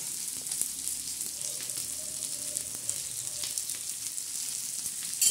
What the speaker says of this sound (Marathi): असा चांगला आता कांदा आपण भाजणार आहे काळ्या मसाल्यासाठी